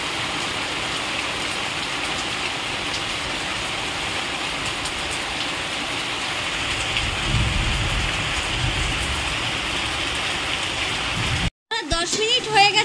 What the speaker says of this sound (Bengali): দেখুন বাইরে কিরকম বৃষ্টি নেমেছে।